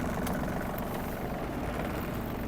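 A warmed-up Yanmar RS-24 Japanese mini tractor sits idling with its brake set, the engine giving a steady, even rumble close by and alone.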